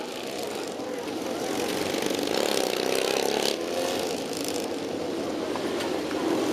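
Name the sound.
motorcycles riding past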